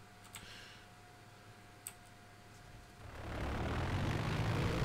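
A game aircraft in Garry's Mod, its landing gear retractable, starts with a few clicks over a faint hum, then its engine roar swells loud and steady for the rest.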